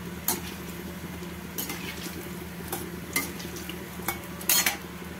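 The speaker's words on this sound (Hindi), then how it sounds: "ये देखिए ये सेक रही है पकौड़िया" Pakoras frying in a pan of oil, a steady background sizzle with several brief clinks and scrapes of a utensil against the pan, close and moderately loud, no talking.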